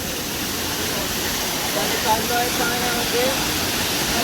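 Chander waterfall in Malvan, Konkan, pours as a steady, dense roar of falling water, close and constant, with faint voices underneath.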